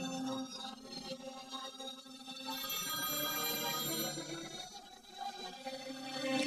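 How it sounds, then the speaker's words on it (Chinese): A telephone rings steadily indoors in a drama scene, a continuous bright electronic ring tone holding for several seconds at moderate level before someone answers. "我接个电话。"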